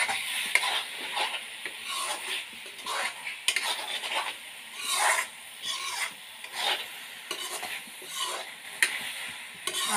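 An egg added to a spiced tomato mixture frying in a pan, with repeated rhythmic scraping strokes of a spatula against the pan over a soft sizzle, close and clear.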